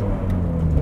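Ferrari 430 Scuderia engine at around 4,000 RPM, a loud, steady, close-up engine drone heard for under a second with no voices over it.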